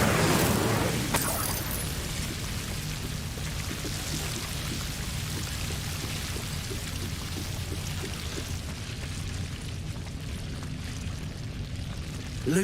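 Incendio fire spell cast in Hogwarts Legacy: a sharp whoosh burst at the start, then a sustained roaring crackle of flames with rain-like patter that slowly fades.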